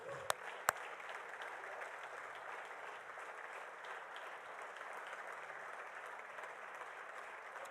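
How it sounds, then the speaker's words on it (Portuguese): Church congregation applauding during a Portuguese-language worship service, a steady, even wash of clapping from many hands, fairly faint and distant, with a couple of sharp clicks near the start. "Aplauda o Senhor."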